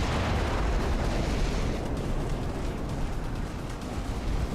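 Battleships trading gunfire in Ultimate Admiral: Dreadnoughts during a 1902 US campaign battle, heard as a constant heavy rumble of distant naval cannon blasts and explosions blending into a thick, unbroken wash of sound.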